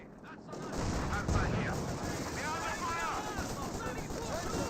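Machine-gun suppressing fire from an MG team in Company of Heroes 2: rapid bursts of gunfire amid steady battlefield noise, moderately distant and sustained after a brief quiet start.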